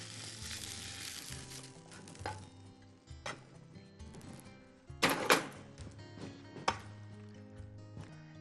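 Eggplant, peppers and tomatoes fry in a pan with a faint, steady sizzle, broken by occasional clinks and clatters of utensils against the cookware, with no voices.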